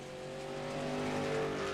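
Dirt late model stock cars race on a clay track, engines droning in a sustained rising tone as a car swells nearer, a fairly faint, steady motor roar with no voices.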